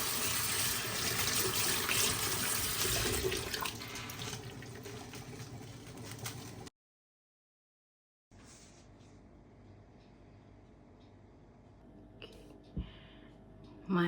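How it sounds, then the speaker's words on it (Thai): Blanched vegetables rinsed under a cold running tap, a steady close rush of water for several seconds, then a pause and quieter dripping and handling afterward. "ผ่าน้ำเย็นนะจ๊ะ"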